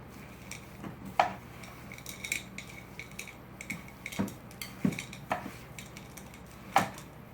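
Peanut butter cookie dough with mix-ins being worked by hand in a bowl, quiet scraping and soft muffled thuds with a few sharper knocks against the bowl at irregular intervals.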